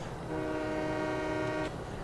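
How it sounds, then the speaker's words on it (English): Train horn in the farming video game Farming Simulator 17, a single sustained harmonic blast lasting over a second, fairly clear above a low rumbling background. "the other big thing that they added this year was trains"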